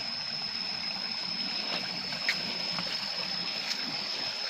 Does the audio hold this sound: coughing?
no